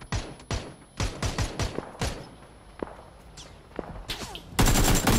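Gunfire in the battle royale video game PUBG, with quick bursts of sharp, close shots in the first two seconds, scattered single cracks after, and a loud sustained blast filling the final half second.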